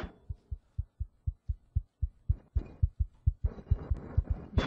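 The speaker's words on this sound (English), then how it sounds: "I hear my heartbeat." A steady thumping heartbeat in the horror video game SCP Containment Breach, about a dozen evenly spaced low thuds, joined midway by a rising hissing, droning ambience that grows louder toward the end.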